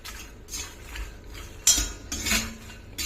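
Makhana (fox nuts) roasting in ghee in a pan are stirred gently, making close scraping and rattling strokes with sharper clinks of the spoon against the metal, in an irregular rhythm without talk.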